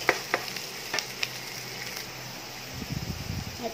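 Onion and garlic hiss and crackle softly in a hot pan. A few clinks of utensils come early, then a low rumbling sizzle swells near the end, all fairly quiet and close.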